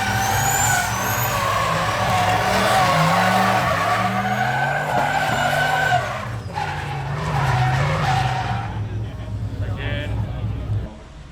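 A loud car engine revs hard and holds at high pitch with harsh bouncing, straining on the rev limiter, dropping off near the end; the engine may have been damaged.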